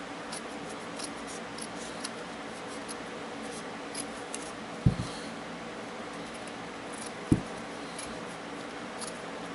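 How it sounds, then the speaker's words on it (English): Two short, sharp snips of craft material being trimmed by scissors, spaced a couple of seconds apart over a quiet background with faint rustling. "I'm just going to trim this off the bottom"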